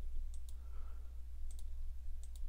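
Computer mouse clicks, a few quiet sharp double clicks spaced apart over a low steady hum, close and isolated with no talking.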